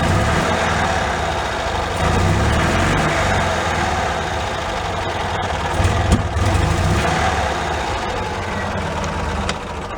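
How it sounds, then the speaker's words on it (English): Engine idling steadily while it warms up, running too lean, a continuous close rumble with low vibration throughout and a brief uneven surge partway through. "I'm gonna let it warm up a minute. Well, idle's good."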